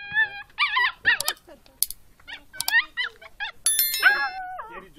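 A dog barks in short, sharp yelps over bright chiming music, the barks recurring several times at close range.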